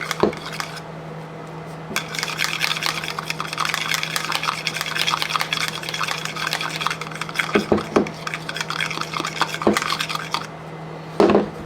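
Freeze-dried raw eggs are stirred with water, a utensil scraping and clinking steadily against the sides of a bowl with a constant low hum underneath.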